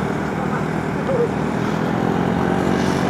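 An Aveta Nova 160 motorcycle engine drones steadily while climbing the mountain road of Gunung Jerai, a continuous close-up hum under wind noise with no clear changes.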